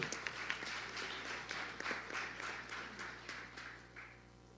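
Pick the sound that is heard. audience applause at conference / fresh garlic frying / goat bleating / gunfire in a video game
audience applause at conference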